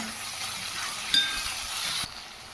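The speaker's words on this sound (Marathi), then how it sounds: "टोमॅटो पण छान असं आपण परतवून घेऊया" Tomatoes sizzle in hot oil with onion and potato as a spatula stirs them in a pan for cabbage masala, a close, steady frying hiss broken by a metallic clink.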